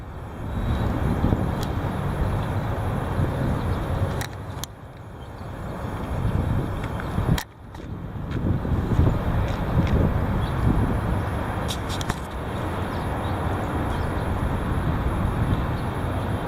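Heavy wind roaring outdoors, loud and buffeting against the microphone as a dense, steady rumble with a couple of brief dips, and no voices.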